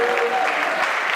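An audience applauds steadily, a dense wash of clapping with a voice faintly over it.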